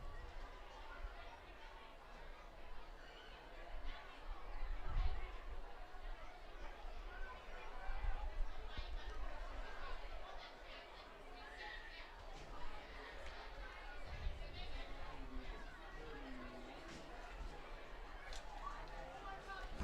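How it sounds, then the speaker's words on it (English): A big crowd fills a high school football stadium with a distant, steady murmur of chatter, swelling and fading in faint waves. "Big crowd at Unison Credit Union Stadium."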